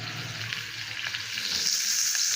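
Chopped onions fry in a pan for a baked catfish tray dish, a continuous bright sizzle close by, steady and unbroken with no voices.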